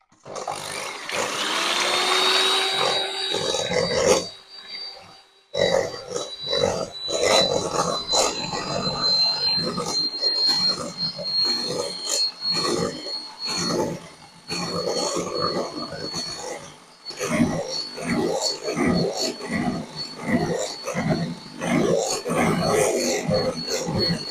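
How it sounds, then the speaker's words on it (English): An electric mixer whisks egg whites to stiff peaks for meringue in a home kitchen, giving a loud, close, continuous whirring drone with rhythmic scraping pulses against the bowl and a brief pause partway through. "I'm going to whisk the egg whites to a stiff peak."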